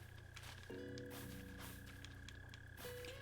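A mole cricket in Animal Crossing gives a steady buzzing trill that stops and restarts, soft and continuous against a droning game background.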